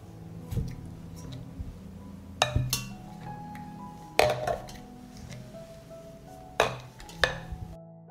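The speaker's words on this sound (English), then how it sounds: "I put a cloth on the bottom of the pot. And I put the jars in the pan." Glass jars are set down one by one into a deep pot lined with cloth, giving several sharp clinks and knocks spaced a second or two apart over a low background hum.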